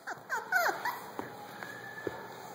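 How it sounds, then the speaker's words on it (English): A small female puppy whimpers in short, high, wavering cries, a few close whines in the opening second followed by fainter yips against a quiet room. "Are you the smallest of all the puppies?"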